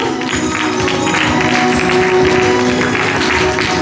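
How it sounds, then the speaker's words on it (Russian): Applause at a Palestinian culture day event at a friendship house, a dense steady wash of clapping from a hall audience, loud and continuous throughout with faint room murmur beneath. "Аплодисменты, друзья."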